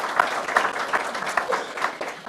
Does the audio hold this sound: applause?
yes